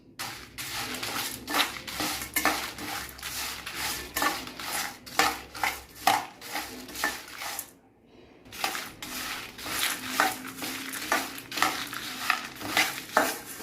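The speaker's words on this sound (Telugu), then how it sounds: "ఇవన్నీ మంచిగా డ్రైగా రోస్ట్ చేసుకోవాలండి" Whole spices and dried red chillies dry-roasted in a pan on a low flame for biryani masala powder, with repeated scraping and stirring strokes against the metal, rhythmic with a brief pause midway, near and moderately loud.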